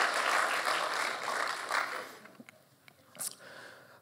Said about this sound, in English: I didn't need applause for that